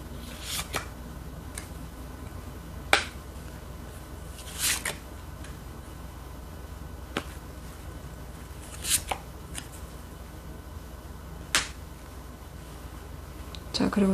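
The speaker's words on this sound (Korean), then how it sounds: "여러분들이 이루고 싶은 것은 무엇인지 카드를 한번 뽑아볼게요." Tarot cards are shuffled and drawn close up in a quiet room, with sparse soft riffling and several sharp card snaps at irregular intervals.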